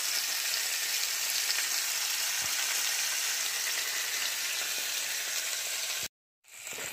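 Woodcock and bacon sizzle steadily in a frying pan, a loud, continuous close-up crackle that cuts out briefly near the end before resuming.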